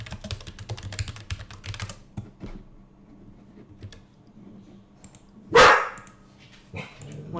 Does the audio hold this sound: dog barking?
yes